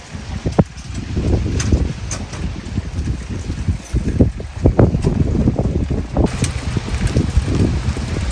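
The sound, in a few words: strong wind during an ice storm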